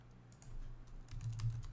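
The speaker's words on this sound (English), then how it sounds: "Typing right now to make sure that I'm not misspeaking" Keys tapped in quick, uneven bursts on a computer keyboard, quiet and close, with a low steady hum underneath.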